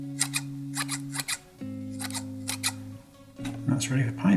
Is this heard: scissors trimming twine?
yes